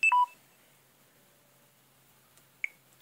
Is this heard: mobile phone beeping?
yes